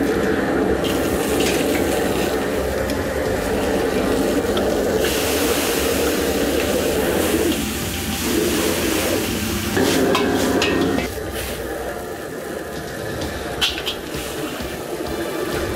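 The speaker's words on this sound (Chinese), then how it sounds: "辣椒下去爆香" Chili peppers hit hot oil in a wok in a restaurant-style kitchen while the cook finishes General Tso's chicken, giving steady close sizzling and stirring that thins out and quiets partway through.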